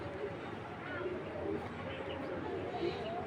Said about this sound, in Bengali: এটা নারায়ণগঞ্জের এক ভাইয়ের কবুতর